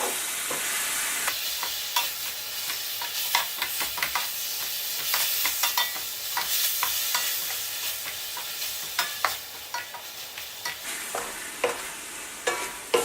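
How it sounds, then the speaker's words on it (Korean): Spicy Korean fish cake stir-fried over low heat, a continuous gentle sizzle broken by frequent sharp scrapes and taps of a spatula against the pan, close and alone with no voices. "어느 정도 볶아줬습니다"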